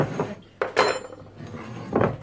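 A mixing bowl is handled in a home kitchen while making a tuna quiche, giving a few separate knocks and clatters against the counter, close and fairly loud, with quiet gaps between them and no talking.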